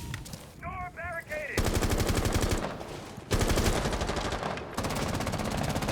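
Rapid automatic gunfire bursts in the video game Rainbow Six Siege, loud sustained rattling strings of shots broken by short gaps, with a brief electronic tone early on.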